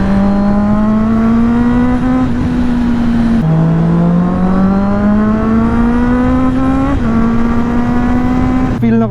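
Honda CB650R inline-four motorcycle exhaust at a steady, smooth cruise, a loud continuous hum whose pitch rises slowly through each gear and drops briefly at shifts, with faint talk in the background.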